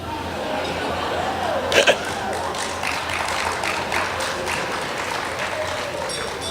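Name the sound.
audience applause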